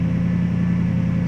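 A 1978 Jeep Wagoneer engine exhaling through a Paradox muffler, a steady low idle rumble with a deep droning hum, close and loud, no voices.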